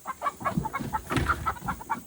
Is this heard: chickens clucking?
yes